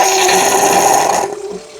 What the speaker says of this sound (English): it kind of sounds like it's not working, but it's heating up the water back here so it can make steam for the milk frother